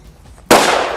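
A single sharp gunshot cracks loud and close against an armored suit, cutting in abruptly after a quiet stretch and leaving a broad, sustained roar in its wake.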